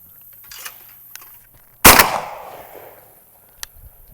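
A single loud, close shotgun blast from a Retay shotgun during outdoor shooting, a sharp report trailing into a decaying rumble, with quieter surroundings before and after.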